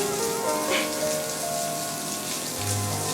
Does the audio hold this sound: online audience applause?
no